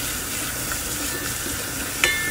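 Garlic and onion sautéing in oil in a pan, a steady, dense sizzle that continues without a break, with a brief clink near the end and no talking.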